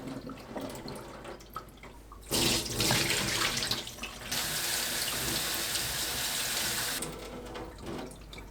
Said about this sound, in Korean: 물에 담가두었던 양파와 무순은 물에 한 번 더 헹궈서 체에 받쳐줍니다.